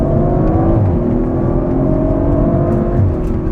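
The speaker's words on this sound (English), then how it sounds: "Okay, hard on the gas." A 2023 Audi RS 5 Competition accelerates hard on twisty roads, its engine holding a loud, steady deep drone from inside the cabin for a few seconds.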